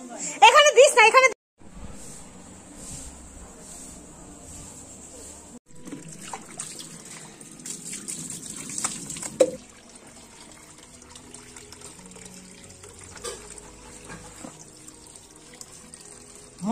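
Water pours and trickles steadily over a person being bathed, a close, running splash under brief nearby voices.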